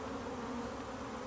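Honey bees buzz steadily around an open hive, a dense continuous hum at low level with no talking.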